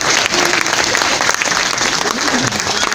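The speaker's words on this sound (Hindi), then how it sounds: "एक बार तालियां पीटते आप थोड़ा मौका।" Audience applause at a Hindi comic poetry gathering, a loud, dense wash of clapping that fills the whole stretch with a faint murmur of voices underneath.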